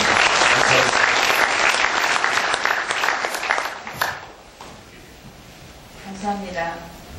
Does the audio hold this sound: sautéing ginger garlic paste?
no